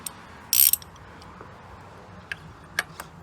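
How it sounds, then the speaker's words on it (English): A 1/2 inch ratchet with an extension and a 903 cap wrench loosens the oil filter cap on a Mercedes X204 GLK diesel: a sharp burst of rapid ratchet clicks, then a few faint isolated ticks. "ratchet and extension, and you simply loosen it"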